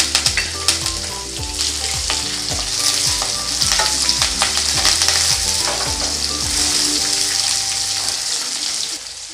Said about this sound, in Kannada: ಸೊ ಇದನ್ನು ಚೆನ್ನಾಗಿ ಫ್ರೈ ಮಾಡ್ಕೊಂಡು ಬರೋಣ. ಚೆನ್ನಾಗಿ ಲೈಟ್ ಗೋಲ್ಡನ್ ಬ್ರೌನ್ ಕಲರ್ ಬರೋ ತನಕ ಫ್ರೈ ಮಾಡಬೇಕು.